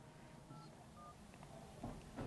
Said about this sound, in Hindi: अब हम लगा रहे हैं हमीदिया का फोन नंबर